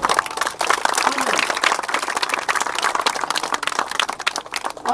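Sustained applause and clapping from a crowd at a cricket tournament final prize ceremony, dense and continuous throughout with a faint voice underneath.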